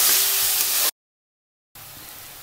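Ginger and garlic paste roasting in a pan as aloo gobi paratha filling is prepared, a steady close hiss and sizzle that cuts out abruptly, then returns fainter.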